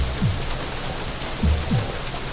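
Rain falls steadily in Painkiller: Overdose, a dense, even hiss broken by a few short, deep thuds.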